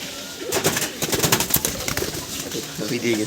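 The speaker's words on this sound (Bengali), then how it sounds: "ভালো ভালো পায়রাগুলো দেখানো হচ্ছে" Pigeons coo and flutter close by amid a busy, clattering background, with some human voices mixed in.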